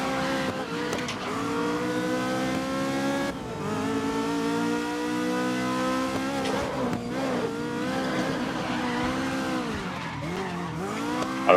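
A Ferrari 330 P4 race car in a racing video game skids and nearly spins, its high engine note wavering against a long, continuous tire squeal that rises and falls over several seconds, loud and up close with no talking.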